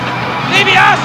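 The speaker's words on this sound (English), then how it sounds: "The crowd loves it." Wrestling crowd at a UWF lumberjack match roars and cheers, a dense swelling babble of voices that rises briefly and stays loud throughout.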